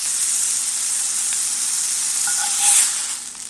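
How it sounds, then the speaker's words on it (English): Thin 4.5-ounce steak sizzling in a hot pan just after being flipped, a steady bright hiss with a brief louder spitting burst near the end, close and alone. "I'm going to flip the steak."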